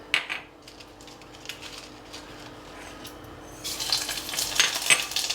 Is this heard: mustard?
yes